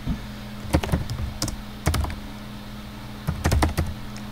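Linux terminal command typed on a computer keyboard during a Fedora software install, heard as close, crisp clusters of key clicks in three short bursts separated by pauses, over a low steady hum.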